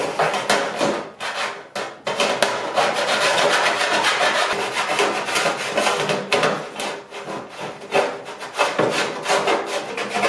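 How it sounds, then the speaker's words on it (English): A Scotch-Brite pad scrubs the inside of a metal part for a Sonex aircraft elevator, a harsh abrasive rasping in repeated back-and-forth strokes with brief pauses, close and fairly loud. "Got a Scotch-Brite pad here. I'm just going to kind of do the inside of this with,"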